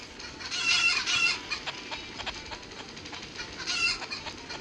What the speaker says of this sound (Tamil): கோழி cook cook cook cook cook cook